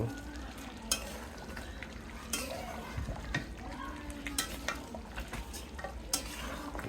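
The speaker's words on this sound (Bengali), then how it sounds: "আবার নেড়ে চেড়ে দেব।" Beef bhuna sizzles steadily in a frying pan while a utensil stirs it with repeated scraping strokes and light clinks against the pan.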